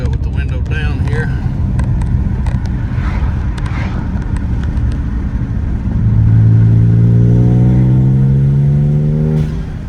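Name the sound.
Honda Civic turbo engine revving with window down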